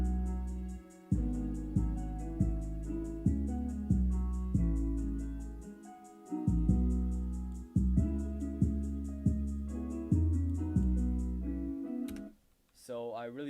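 Deep synthesized bass notes an octave lower play in a steady rhythmic pattern in music production software, loud and upfront, with brief gaps and a warbling effect near the end.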